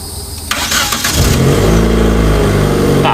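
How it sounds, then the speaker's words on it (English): A Nissan car engine cranks and catches, followed by a loud, steady idle with a deep continuous rumble that holds to the end. "we have to start it up to do a baseline and see how it runs normal"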